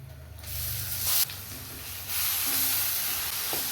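Hot tempering of curry leaves and turmeric poured into ground mango and coconut chutney, bursting into loud sizzling hiss that surges at about half a second and again midway, then keeps crackling up close.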